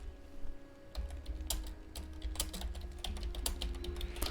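Fast, irregular clicking on a computer keyboard, close and fairly quiet over a low steady hum, keystrokes coming in short uneven clusters.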